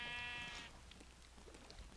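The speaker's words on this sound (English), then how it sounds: "Look at all these sheep." A sheep bleats in a video game, one drawn-out wavering bleat at the start that fades into soft pattering ambience.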